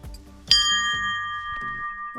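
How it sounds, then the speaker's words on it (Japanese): A bell at a fog-bound mountain lookout spot on a solo hike up Mount Sumon in Niigata rings with one bright struck tone that hangs and rings on, with a few faint sounds behind it. "しょうがないから鐘だけでも鳴らしとくか。"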